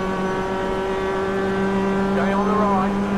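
Mazda Cup race car passing on the left at Lime Rock Park, a steady engine drone that swells with a short rising and falling pitch sweep as it goes by.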